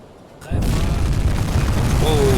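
A torpedo strike on a ship in the UBOAT submarine game sets off secondary explosions, a sudden loud boom after a brief quiet lead-in followed by a sustained rumbling roar of blasts.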